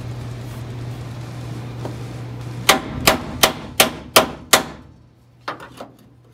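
Hammer blows tap a section of a 1970 Challenger's steel frame back into place: six sharp, evenly spaced metallic strikes, close and loud, followed after a pause by a couple of lighter taps, over a low hum.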